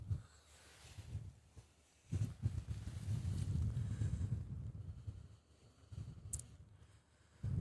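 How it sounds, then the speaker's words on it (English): Wind buffets a microphone outdoors on a snowy roadside by the water, coming in uneven gusts of low rumbling roar with brief lulls between them, no speech over it. "It's quite windy, so I apologize if you're hearing that."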